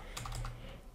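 A few quick keystrokes on a computer keyboard as a web address is entered into a browser, clicking close and fairly loud over a steady low hum.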